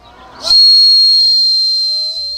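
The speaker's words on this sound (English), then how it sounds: "Now you can just slide the bark back on and give it a blow." A homemade whistle carved from a willow branch with its bark slid back on gives one loud, shrill, sustained note, close and steady for about two seconds after a brief breathy start.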